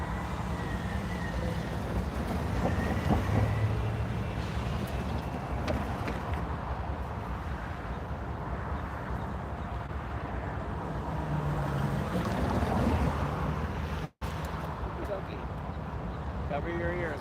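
A CSX or Norfolk Southern train passes close to the track at Wauhatchie with a steady, loud rumble and rush of wind noise that carries on throughout, while people talk over it.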